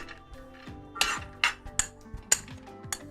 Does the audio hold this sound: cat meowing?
no